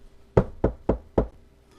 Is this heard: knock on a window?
yes